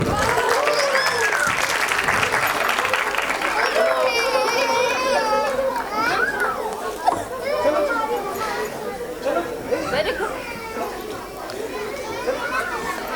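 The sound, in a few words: audience applause at a nursery school annual function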